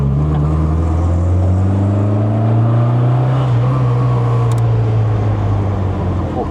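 A classic MG Midget's engine idles steadily and close by, a smooth low hum with a slight rise in revs midway, alone with no voices.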